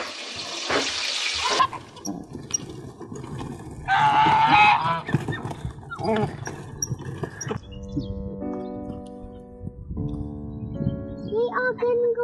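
Geese on a homestead honk in short bursts at varying distances, mixed with running water and some nearby talk.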